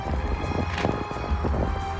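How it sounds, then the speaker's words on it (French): Wind buffets the microphone during a bicycle trip from Bordeaux to Paris, a steady low rumble with gusty swells that runs for the whole two seconds, close and fairly loud, with no talk. "désolé si y a un peu de vent"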